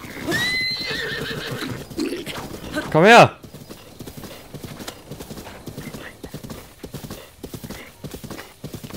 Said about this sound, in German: Das erste Mal Kampf zu Pferd